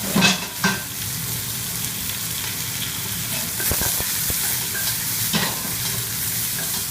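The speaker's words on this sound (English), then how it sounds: "And the mushrooms go in there, and the garlic. And I'm just going to give that a stir around." Mushrooms and garlic frying in a pan while being stirred, a steady close sizzle with scraping utensil strokes and a few soft knocks against the pan.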